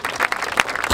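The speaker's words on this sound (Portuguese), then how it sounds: "Uma salva de palmas pros MCs aí, mano." A crowd applauds the MCs at a rap battle final of Batalha da Aldeia in Barueri, São Paulo, with dense, loud, continuous clapping throughout.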